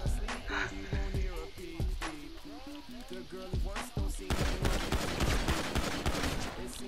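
Rapid bursts of GTA 5 gunfire crackle through a one-on-one firefight, with dense overlapping shots growing heavier toward the end while a voice talks intermittently underneath.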